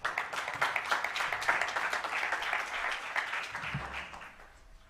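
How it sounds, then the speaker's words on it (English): An audience at a physics masterclass gives a round of applause, a dense patter of many hands clapping that holds steady for several seconds and then fades. "Let's give him a big round of applause"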